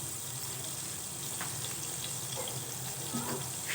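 Water poured into a pan of melted butter gives a continuous hiss and gush of running liquid at moderate level, with faint clinks and no speech.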